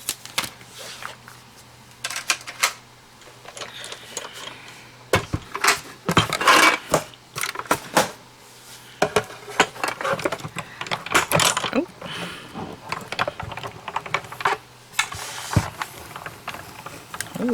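A Spellbinders Platinum 6 die cutting machine runs paper through, giving a steady mechanical grinding and ratcheting with irregular clicks and creaks, close and fairly loud, with occasional voice-like bursts.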